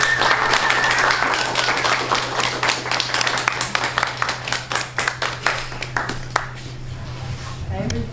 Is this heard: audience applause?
yes